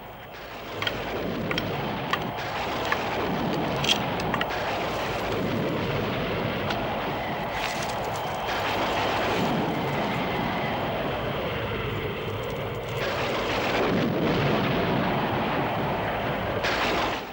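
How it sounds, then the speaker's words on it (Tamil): A terrible stormy night brings thunder that rumbles in long, rolling waves under a constant wash of heavy rain, with a few sharper cracks breaking through. "பயங்கர புயல் வீசுகின்ற இந்த இரவிலே"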